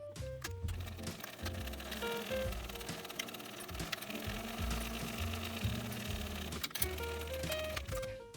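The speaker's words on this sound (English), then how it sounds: "we're going to sew that top straight edge." A sewing machine stitches the top straight edge of bag pocket pieces, running steadily and loudly for the whole stretch with a rapid mechanical whir and slight changes in speed, no voices.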